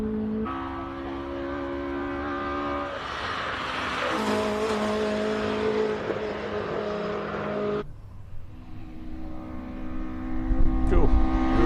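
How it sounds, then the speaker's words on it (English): A classic Datsun GX Coupe race car drives on a circuit with a loud, steady engine drone that rises under acceleration, drops back, then builds again, heard up close. "This is Ian Kilburn in the GX Coupe Datsun."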